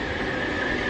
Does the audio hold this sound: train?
yes